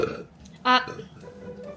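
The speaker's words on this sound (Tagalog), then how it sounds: "You should say thank you, Lord, when you burp." A single short, loud burp from a person indoors, with talk and room noise around it.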